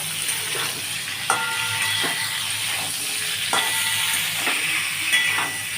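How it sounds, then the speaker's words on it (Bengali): Carrots sizzle steadily in hot oil with tempered cauliflower and potatoes for a Nabaratna curry. Sharp clicks of stirring break through at intervals, with no talking. "কপি আলুটা ফোড়ন দিয়ে ভাজা হয়ে গেছে। আমি এই গাজরগুলো দিচ্ছি এবারে"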